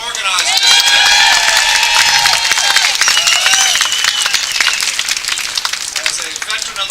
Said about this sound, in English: What do you say we give Andy Goddard a hand for organizing this event?